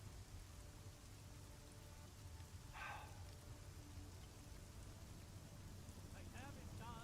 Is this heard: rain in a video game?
yes